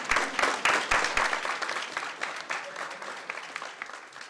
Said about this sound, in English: I think that in itself needs a round of applause